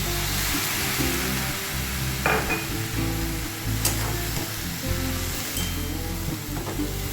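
Water from rinsing a curd bowl poured into a hot pan of caramelizing vegetables, a steady close hiss of sizzling with a few sharp clicks, over a low background drone.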